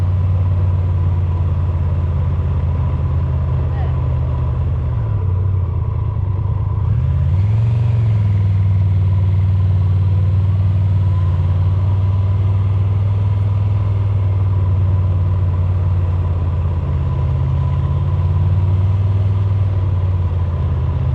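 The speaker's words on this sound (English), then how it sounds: "There's cars everywhere." Busy road traffic near the Picos de Europa, with cars passing and idling, a loud, constant low engine drone with a rising engine swell midway, heard up close and without talk.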